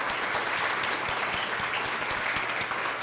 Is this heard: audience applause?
yes